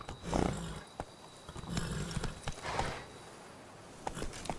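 Roach the horse gallops in The Witcher 3, hooves clip-clopping in quick uneven beats at moderate distance, with a brief snort or whinny near the start and no talking.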